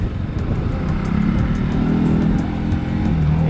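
Steady, close idle and low rumble of a new NS motorcycle engine, holding an even throbbing drone with slight swells in pitch, with wind noise throughout.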